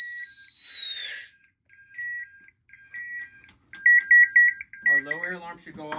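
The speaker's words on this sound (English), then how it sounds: "There should be a halfway point alarm." Several short electronic beeps in repeated bursts from an SCBA halfway-point air alarm, an alarm-like chirping pattern, with a voice talking near the end.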